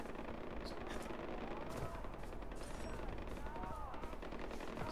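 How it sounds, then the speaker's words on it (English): Gunfire crackles in Far Cry 4, a rapid, faint stream of shots heard at a distance over a busy, noisy game background throughout. "Ooh, shooting."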